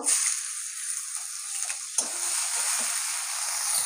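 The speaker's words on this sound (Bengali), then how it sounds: "পেঁয়াজটা ভালো করে ভেজে নেবো।" Onion paste frying in oil in a wok, with a steady close hiss and sizzle and a few light stirring knocks throughout.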